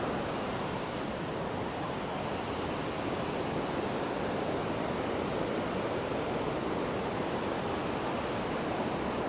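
The Hogenakkal waterfalls and the river below make a dense, unbroken roar of rushing water, loud and constant with no voices.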